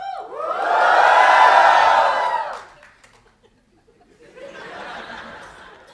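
Audience at a TEDx talk erupting in a loud cheer with shouts and laughter for about two seconds, falling silent, then a second, fainter round of cheering and chatter.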